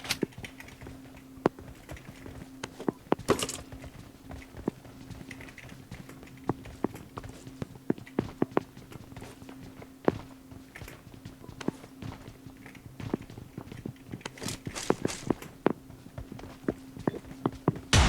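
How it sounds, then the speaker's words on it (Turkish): Footsteps in the battle royale game PUBG Mobile, a steady run of soft, quick clicking steps across the whole stretch, with a few sharper thuds, fairly quiet against a low hum. "Ayak sesleri geliyor."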